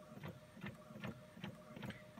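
An inkjet printer feeds and prints onto deli paper, its print head sweeping back and forth in a steady rhythm of about five quick mechanical passes, close and moderately loud with no voices.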